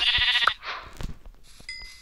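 Sheep bleating in a hardcore survival video game, a couple of short nasal bleats close up, with a brief chime-like tone near the end.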